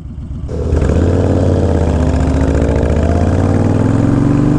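An engine idles and revs with a steady, throbbing low rumble that sounds rough and uneven, loud and close throughout.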